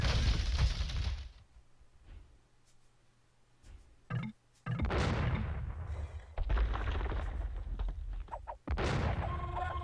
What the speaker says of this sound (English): Big nice bomb by cannon shot.